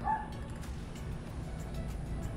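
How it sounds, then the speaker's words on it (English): A small dog yaps in the distance, faint short barks over outdoor background noise. "Got a little dog barking."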